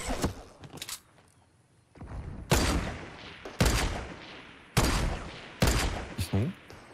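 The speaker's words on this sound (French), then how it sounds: "Ça tire derrière, t'entends?" Bursts of gunfire in a Fortnite match: several loud, sharp volleys spaced about a second apart, each cracking out then decaying, with quieter shots and scuffling between them and no talk over the shooting.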